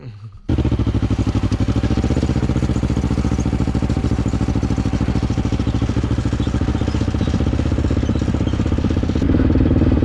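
Off-road motorcycle-type vehicle engine running continuously on a woods trail with a failing front brake, a loud, close, rattly mid-pitched drone that starts abruptly and holds steady throughout.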